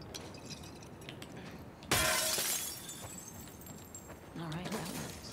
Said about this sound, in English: Break glass with bricks.